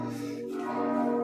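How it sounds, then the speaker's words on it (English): Cathedral bells ring out in a sustained, resonant chime, with a faint, distant, steady tone and no one speaking. "we will conclude today's stream with the cathedral's bells chiming away"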